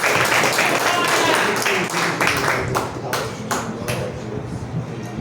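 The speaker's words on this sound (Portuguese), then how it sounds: "as palmas para o nosso Deus" A church congregation claps, starting as dense applause and breaking into sparser, distinct claps, with voices faintly heard under it.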